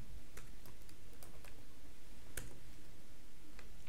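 Soft typing on a computer keyboard, a scattered run of light, quick clicks at an irregular pace, close and quiet against faint room noise.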